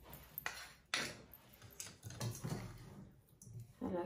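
Shrimp is stirred into a bowl of fish filling for small pastillas. The utensil gives faint, scattered scrapes and light clinks against the bowl, irregular and quiet, with a few slightly louder knocks.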